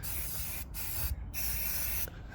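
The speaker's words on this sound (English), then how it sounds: "Just hold it 3 inches away roughly from the air filter and spray on until you can see it visibly turn red." K&N air filter oil sprays from an aerosol can onto an air filter on a KTM 1290 Superduke R build, three close hissing bursts separated by brief pauses.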